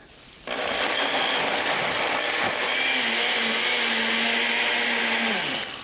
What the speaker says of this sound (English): the blender is going to give it a quick puree